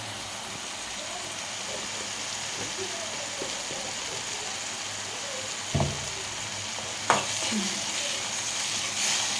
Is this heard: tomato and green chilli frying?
yes